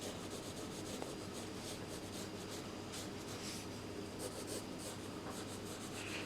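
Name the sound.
pencil drawing lines on paper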